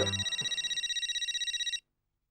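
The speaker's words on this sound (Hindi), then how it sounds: "ये हंसिया बहन का फोन है।" A telephone rings in a rapid repeating electronic trill, fairly quiet, then cuts off abruptly into silence.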